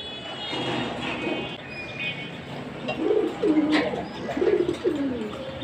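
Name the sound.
pigeons cooing in balcony cage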